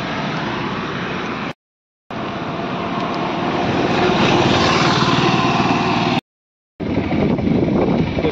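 Motorbike riding along a rough road in Jamshedpur, a continuous close engine drone with wind noise, fairly loud and steady, broken by two brief silent gaps, no talking.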